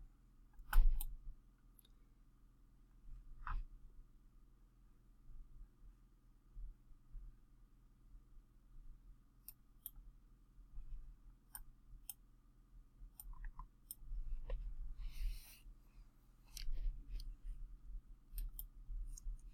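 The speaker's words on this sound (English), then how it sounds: "Trying to get that click to go through." Computer mouse clicking at a desk while setting up Snort on Ubuntu, faint scattered clicks spread irregularly through a low steady hum, with a louder click near the start.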